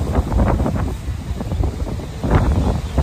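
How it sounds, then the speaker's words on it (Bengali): Strong sea wind on Digha beach in the early morning, buffeting the microphone with a steady low rumble and gusts, and a faint wash of surf underneath, with no voices. "একটু সকাল সকাল সমুদ্রের হাওয়াটা উপভোগ করি"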